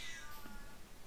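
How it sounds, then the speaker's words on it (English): A house cat meows briefly near a microphone, a short single call over faint background noise. "oh no, it's my cat."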